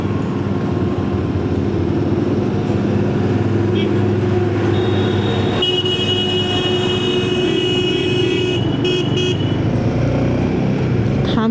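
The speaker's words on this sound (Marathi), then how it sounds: "मग माझ्यासमोर एक ट्रक ओव्हरटेक करते।" A truck overtakes on the mountain road over Zojila Pass between Srinagar and Kargil, a loud, steady engine and road drone heard from inside a vehicle, with a held horn tone partway through and a voice speaking over it.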